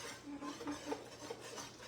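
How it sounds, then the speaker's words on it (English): Whisk scraping and clinking around a pot while stirring a flour mixture, quiet rhythmic metallic swishes and light taps repeating steadily. "Nice whisk action to make sure it's nice and smooth."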